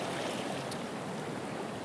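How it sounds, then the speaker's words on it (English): Ocean waves roll onto the shore at a seascape, a steady broadband wash of surf with no distinct breaks, moderately faint and continuous with no voices. "you can see these waves coming in"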